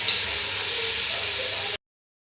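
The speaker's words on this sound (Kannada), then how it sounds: "ಉದ್ದವಾಗಿ ಹೆಚ್ಚಿದಂಥ 2 ಟೊಮೆಟೊನ ಹಾಕ್ತಾಯಿದ್ದೀನಿ. ಒಂದ್ಸರಿ ಚೆನ್ನಾಗಿ ಫ್ರೈ ಮಾಡಿ." Two lengthwise-sliced tomatoes hit hot oil in a pan for fish biryani, giving a loud, steady, close sizzle and hiss that runs unbroken, then cuts off abruptly.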